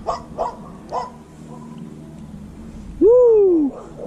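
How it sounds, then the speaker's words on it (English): A dog near a kayak during snakehead fishing lets out one loud, drawn-out bark that bends downward in pitch, after a few faint short sounds. "This dog always barks, and I can't do nothing about it."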